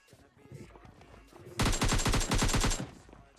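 Video game gunfire in a sniper match: a loud, rapid string of about a dozen close shots that follows quieter game noise and then fades to background sounds.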